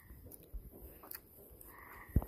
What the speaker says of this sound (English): I couldn't hear anything but them frogs.